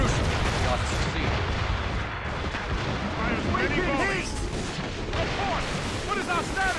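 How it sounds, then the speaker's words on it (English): Ship mortar fire during a naval battle in Assassin's Creed Rogue: repeated heavy booms and blasts rolling over a dense din of battle noise, with whistling projectiles and shouting voices mixed in throughout. "Make good use of your own mortars"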